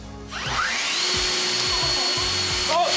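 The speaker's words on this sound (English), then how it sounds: "Or this fan." An electric fan switched on by remote starts with a quick whir that spins up into a steady, loud, continuous hum with a broad airy rush, running alone without talking before cutting off at the end.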